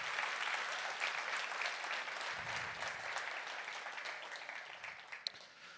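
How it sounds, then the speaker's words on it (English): Steady applause from a conference audience at the SEC-T security event, a continuous crowd of clapping that slowly thins toward the end, with a couple of sharper single claps near the finish. "So big round of applause for them."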